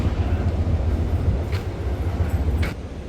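A passenger train stands at a station in Denver, giving a loud, steady low rumble of idling machinery with a broad hiss and two faint, brief higher squeals.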